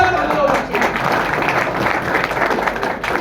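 Clapping from a seminar audience at a leadership program in Siliguri: steady, dense applause that fills the room for the whole stretch, with a voice speaking over it.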